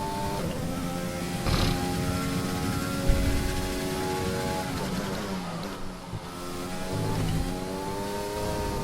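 F1 2020 racing car lapping the Melbourne circuit in a video game, with a steady engine whine whose harmonics rise and fall through gear changes, and a brief thump around the middle where the car crashes.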